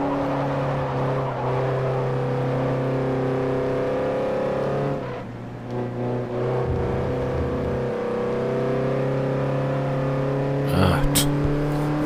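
A car in the game Forza Motorsport 4 hums steadily at low revs, the engine drone holding near and even with a brief dip midway, while a person talks over it.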